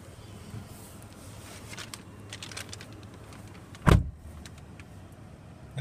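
The power windows of a 2017 GMC Canyon Denali pickup run with a faint motor whir and light interior clicks, then a single sharp thump near the end. The surroundings are otherwise quiet.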